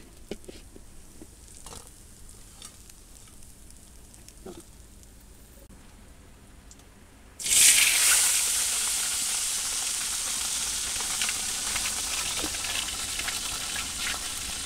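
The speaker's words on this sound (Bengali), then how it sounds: "খুব সুন্দর ভাজা হয়েছে, দারুণ করে ভাজছি" Katla fish frying in hot oil, a loud, steady sizzle that bursts in suddenly about halfway through and holds, after a quieter stretch of faint kitchen clatter.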